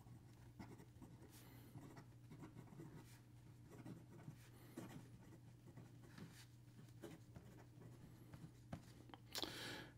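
An OMAS Vintage 360 fountain pen with a fine nib writes steadily on paper, giving close, soft scratchy strokes with short pauses between words over a low constant hum, with no talking.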